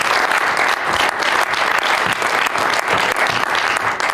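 Audience applause at the Starter van het jaar 2021 award evening in Venray, a dense, steady clapping that fills the whole stretch at close range with no voices over it.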